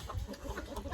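Roosters clucking close by during a rehoming, short low throaty calls repeating through a busy, noisy background with no talk.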